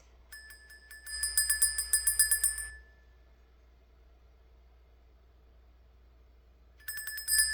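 A small bell rings in a quick run of strikes, falls silent for several seconds, then starts ringing again, bright and fairly close.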